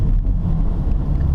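An MRT V1 axle-back exhaust on a V6 fifth-generation Camaro gives a short, loud, close-up low drone with a rough rumbling texture.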